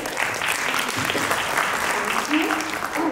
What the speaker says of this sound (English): Huge round of applause for Spring Verify, ladies and gentlemen.